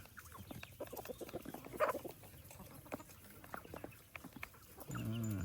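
Ducks and chickens on a Lao Town farm in Fresno, California cluck and call in scattered bursts, faint and fairly distant, with a few clearer fowl calls amid low background noise.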